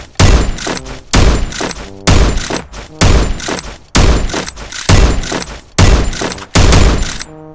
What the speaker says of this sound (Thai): หรือว่าจะยิงแบบกดซองใหม่ก็ได้นะยิงสับยิงสับแบบนี้